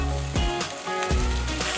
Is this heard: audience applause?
no